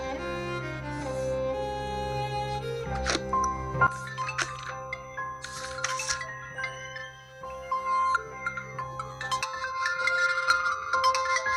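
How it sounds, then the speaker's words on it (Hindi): A phone ringtone plays a repeating melodic tune for an incoming call in the morning, loud and close, filling the whole stretch with no talk over it. "अरे यार इसका फोन आ गया सुबह सुबह"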